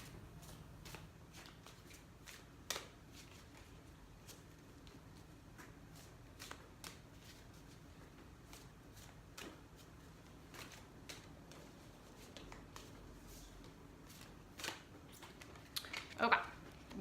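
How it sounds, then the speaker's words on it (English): A deck of cards, probably tarot or oracle cards for a reading, is shuffled over and over in faint, quick riffling clicks throughout. A quiet voice talks softly underneath. "One more shuffle."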